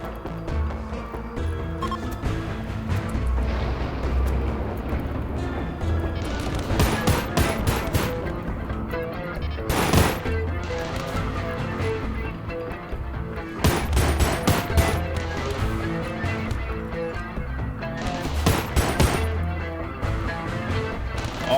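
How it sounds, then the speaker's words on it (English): An autocannon in Rimworld fires in a long, sustained barrage, rapid loud reports running throughout, with heavier clustered bursts standing out over the continuous gunfire, and no voices. "Autocannon is fucking vicious. Does not play around."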